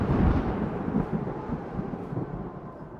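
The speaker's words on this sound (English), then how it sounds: "We're getting hit by the lightning." Lightning strike and thunder in The Falconeer flight game: a deep, loud rolling rumble that is heaviest at the start and slowly fades across the stretch, with no voices.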